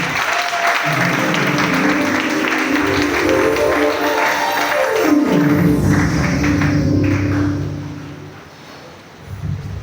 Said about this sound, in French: acclamons la parole de Dieu.